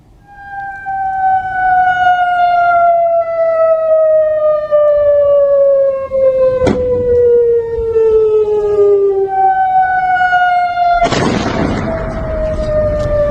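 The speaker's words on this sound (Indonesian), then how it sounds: "Sirine peringatan pun kembali meraung di Yordania." Air raid warning sirens in Jordan wail loudly and steadily, their pitch slowly falling, with a sharp crack partway through and a heavy boom near the end.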